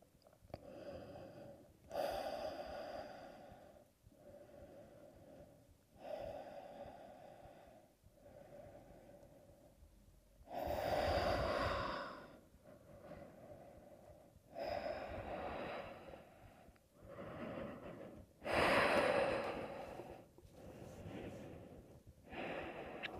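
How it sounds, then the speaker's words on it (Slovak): Slow, deliberate breathing during a gentle morning yoga pose, with soft inhales and several stronger, breathy exhales recurring at intervals, close and quiet. "Nádych a výdych."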